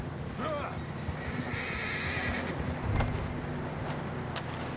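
In Red Dead Redemption II, a horse gives a short whinny over a steady outdoor ambience, with a few hoof clops and a brief voice following it.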